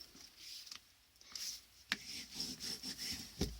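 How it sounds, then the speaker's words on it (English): A bone folder presses and rubs along creased paper bag hinges for a mini album, giving soft, close scraping strokes with a few sharper taps and no talk. "Using my bone folder, I'm going to press them all down this way."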